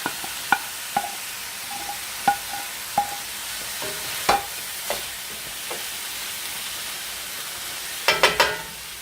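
Chopped vegetables tumble into a hot pan for taco filling and sizzle, with scattered sharp clatters and stirring scrapes over a steady soft frying hiss, a cluster of louder knocks near the end.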